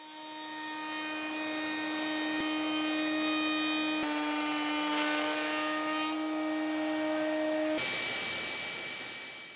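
A Ridgid combo router with its fixed base mounted in a router table, spinning a 2.5-inch panel-raising bit through wood: a steady, loud high-pitched whine with a strong tonal hum, pitch shifting slightly as the cut loads and eases off near the end.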